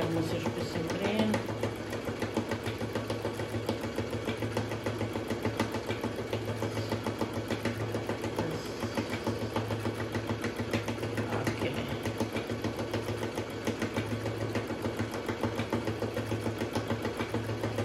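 A Brother Super Ace SE Model 947 sewing machine stitching continuously, a steady rapid mechanical whir and needle clatter running close and unbroken throughout.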